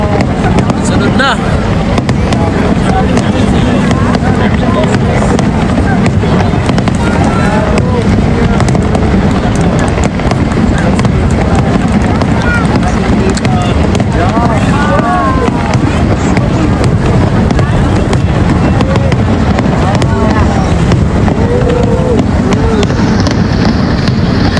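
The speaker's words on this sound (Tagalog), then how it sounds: "Niagara fireworks" Dense, continuous crackling and booming of Niagara fireworks over a loud outdoor crowd, with wind buffeting the microphone throughout.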